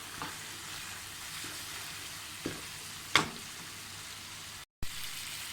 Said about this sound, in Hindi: और 2 चम्मच सूख मिर्च, तो इसको अच्छे से भूनना है।